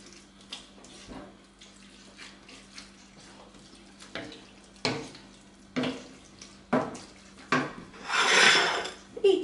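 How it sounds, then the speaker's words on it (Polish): Garlic being stirred into burrito filling in a pan, with a run of clinking and scraping utensil-on-pan strokes that grow louder and more frequent toward the end, ending in a sizzling or rushing burst. "Należy na nie pomieszać."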